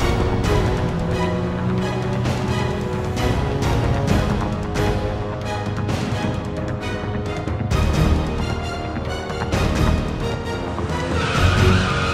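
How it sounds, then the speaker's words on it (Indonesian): A car tears away at high speed in a chase, engine roaring steadily while tires squeal and skid, loud and close for the whole stretch with dramatic music underneath. "Makanya dia nyetir makin ngebut dan berusaha ngindarin mobil aku."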